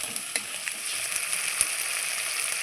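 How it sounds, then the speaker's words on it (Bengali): Ground spice paste sizzles steadily in hot oil in a pan for a ridge gourd and potato curry, a close, even crackle broken by a few sharp spatters and stirring clicks, with no talking. "আমি মশলাটা খুব ভালো করে কষিয়ে নেব"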